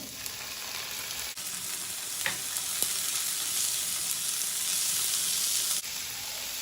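Chopped onion and tomato sautéing in a pan for a spicy okra dish, a continuous close sizzle with a few stirring scrapes and clicks, steady throughout with no voices.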